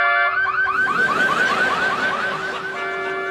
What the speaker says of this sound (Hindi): इसका अलार्म ना कुछ दिनों से गड़बड़ चल रहा है